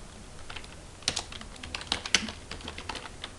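Computer keyboard typing, a run of quick, uneven keystrokes with a few sharper clacks, close and alone with no talk.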